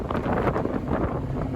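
Gusty wind buffets the microphone in a dense, rumbling roar for a brief moment, outdoors beside a Jeep rock crawling.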